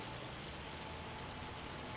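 Steady rain falls in the video game Farming Simulator 25, on the Moss Valley map, a constant soft hiss of drops with no talking.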